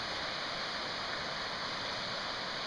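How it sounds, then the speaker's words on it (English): The Cowichan River flows far below a forest footpath, a steady, even rushing hiss with no breaks and no voices. "There's the river"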